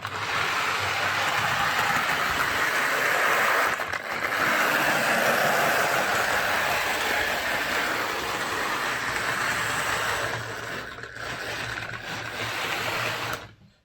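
A Hornby Class 28XX model locomotive runs poorly, its small motor giving a continuous buzzing whir with brief dips and stutters, close and alone, before it cuts out at the end.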